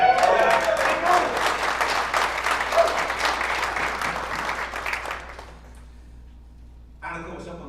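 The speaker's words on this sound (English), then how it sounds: "I know you're going to cheer." A crowd of soccer club supporters at a Major League Soccer announcement event applauds and cheers loudly, a dense roar of clapping that fades over about five seconds into near quiet before a voice speaks.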